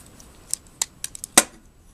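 Plastic toy figure arms, from a special ops Jazz Transformers figure, are rotated and folded, giving a handful of small close clicks and ratchety snaps spaced unevenly over two seconds, the last one loudest.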